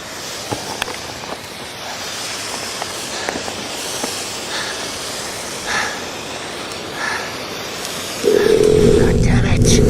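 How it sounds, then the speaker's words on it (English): A big flare is cracked open outdoors and flares into a loud, steady roaring hiss that starts abruptly near the end, after a stretch of rustling, footsteps and breathing. "so you'll see me here crack open one of my big flares."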